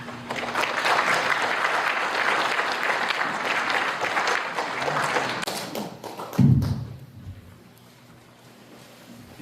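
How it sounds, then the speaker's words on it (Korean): An audience at a Korean commemoration ceremony for the 106th anniversary of the Provisional Government gives sustained, dense applause for several seconds. A thump sounds as the clapping fades, and a quieter hall remains afterward. "귀한 말씀 주신 경기도박물관 이동국 관장님께 다시 한번 큰 박수 부탁드리겠습니다"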